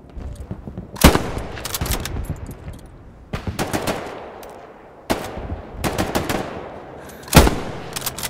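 Machine gun fire in the WWII shooter Hell Let Loose: several loud, sharp bursts of rapid shots spread over the stretch, each with a ringing, fading tail, and no talk over it.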